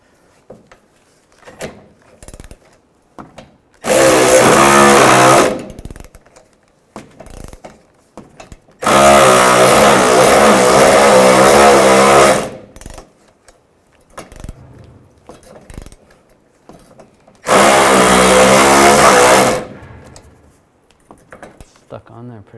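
A bolt is removed from the front bumper of a 2007-13 Chevy Avalanche with a 10mm socket. Three loud, sustained whirring bursts of a few seconds each are separated by quieter stretches of faint clicks and handling noise.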